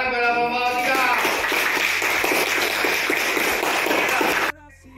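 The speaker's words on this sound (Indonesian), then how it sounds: "tepuk tangan pada kelompok" A classroom of students claps for a group after a discussion, a brisk bright patter of many hands that starts over a brief voice and cuts off abruptly at the end.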